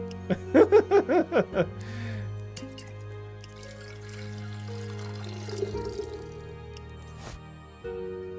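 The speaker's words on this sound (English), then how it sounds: "I didn't need to pour out that much of it" Liquid pours and drips in the tavern-keeper game Tavern Talk, with a short run of rhythmic glugging splashes early on, then quieter trickles and clinks over a steady low game-music drone.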